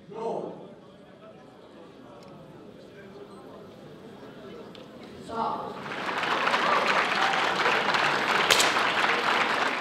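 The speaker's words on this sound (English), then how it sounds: "the crowd are ecstatic" Crowd at an ISSF World Cup shooting final in Changwon, Korea, bursting into loud applause and cheering that swells after a quieter stretch and then holds steady, with a commentator's voice heard before it.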